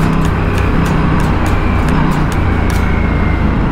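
An Aprilia RS 457 motorcycle ridden on a race track, its engine a steady loud drone with wind rush throughout, close-miked from the rider's position with no speech.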